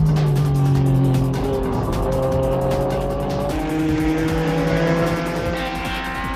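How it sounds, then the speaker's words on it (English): An NSX-based ADAC GT racing car on a circuit, its engine droning and rising through the gears with shifting pitch and a hint of tire squeal, loud and close throughout. "Following right behind was the NSX-based racing car,"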